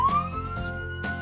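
A police car siren sounds briefly, a high rising tone that steadies and holds, moderately loud over soft background music.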